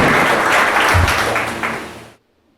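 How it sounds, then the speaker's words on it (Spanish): A church congregation bursts into applause at a sermon, a dense wash of clapping that swells loud and then fades off before cutting to silence. "Gracias, Chris, dale un aplauso."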